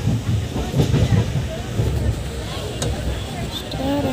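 A passenger train running from Lokmanya Tilak Terminus to Visakhapatnam rumbles steadily from inside the carriage, a low continuous rolling roar, while people talk over it.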